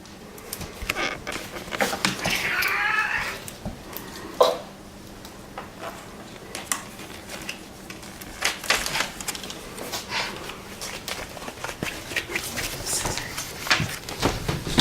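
A cat plays with paper: crinkles and rustles in irregular bursts, with scattered taps and scratches throughout, close and fairly quiet.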